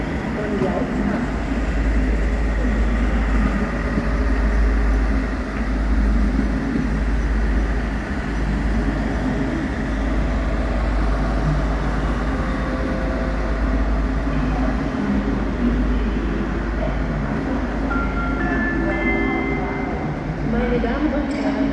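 Train standing at a platform of Cologne Main Station with a steady low rumble of the engine and station hum throughout, while a German platform announcement about the RB 9 regional service to Aachen via Düren plays over it.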